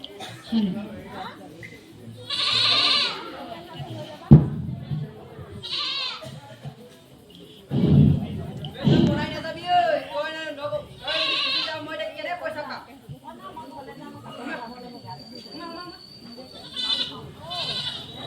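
A goat bleats several times among people talking nearby, the calls rising briefly above the chatter outdoors.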